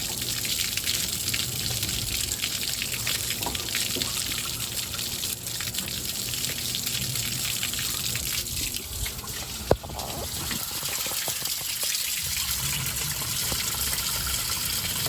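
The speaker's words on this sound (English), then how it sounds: "I'm gonna bring the hose over here and run water through it, see if I can get this thing to flush out." Water from a garden hose rushes steadily through the radiator of a 1988 Ford Ranger, a constant broad gushing and splashing that stays loud and even throughout, with a single brief knock partway through.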